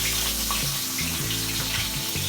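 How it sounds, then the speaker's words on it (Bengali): Fish dropped into hot oil in a pan, cooking on medium flame for a Bengali murighonto: a steady, close hiss and sizzle of frying that carries on evenly throughout. "দুধ থেকে হাতটা বাড়িয়ে গরম তেলে মাছটা ছেড়ে দেব"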